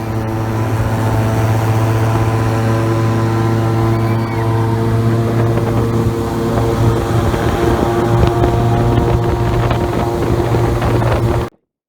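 A Florida Everglades airboat on a Coopertown tour runs steadily for about twelve seconds, a loud, continuous droning engine and propeller roar with wind buffeting the microphone, cutting off abruptly at the end.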